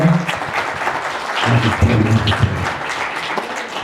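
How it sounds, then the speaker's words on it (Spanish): Applause from the audience of a Spanish-language podcast talk on anticresis fraud, a steady broadband wash of many hands clapping for about four seconds, with faint voices murmuring beneath it. "Un fuerte de aplausos, por favor, por la explicación."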